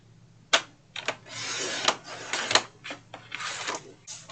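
Paper being cut for a box insert, with crisp, irregular slicing and rustling strokes close up, several short bursts separated by brief pauses, quiet and alone.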